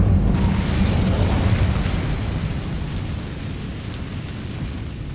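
A fiery rumbling roar from an Incendio fire spell in the video game Hogwarts Legacy, loud and sustained for the whole stretch, fading slightly toward the end.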